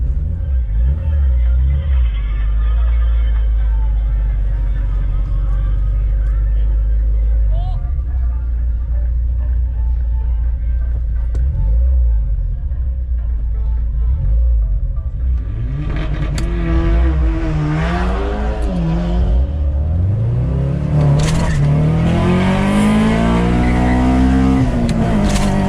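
A Honda Civic with a B20 VTEC engine at a drag race, idling with a low rumble and then revving up and down in rising, loud sweeps toward the end.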